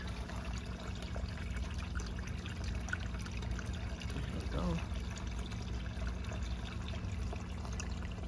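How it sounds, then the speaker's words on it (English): Filtered water trickles steadily from three holes in an old aquarium filter feeding an aquaponic pond, a soft continuous dribble over a low hum, with a brief spoken comment midway. "so the filtered water can come out."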